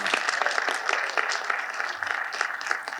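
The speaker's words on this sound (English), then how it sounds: "Okay, let's give a round of applause, please." An audience gives a panel discussion at a sports summit a round of applause, dense steady clapping that holds for the full stretch, moderately loud and without talk.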